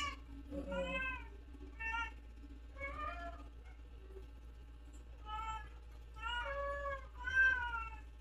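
Several house cats meow in turn, a series of clear, mid-loud drawn-out calls with short pauses between them, over a steady low background hum.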